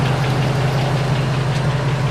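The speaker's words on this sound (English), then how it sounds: "I hear the fan running." A car's cooling fan whirs steadily over a low idling engine, a constant close hum with no change across the short stretch.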